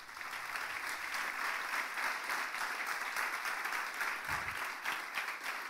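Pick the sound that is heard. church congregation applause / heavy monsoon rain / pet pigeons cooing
church congregation applause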